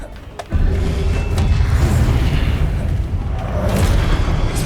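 A Confringo blasting spell detonates in a Harry Potter video game: a sudden loud boom hits after a brief quiet, then rolls on as a heavy, sustained rumble.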